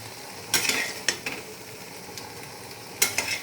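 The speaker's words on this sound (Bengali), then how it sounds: "আমি এটা একটু বাটার দিয়ে জাস্ট এপিট ওপিট নেড়ে নিয়েছি।" Yakhni paneer ingredients are stirred in butter in a pan: a soft continuous sizzle, broken by a few sharp scraping clatters of a spoon against the pan, close and alone.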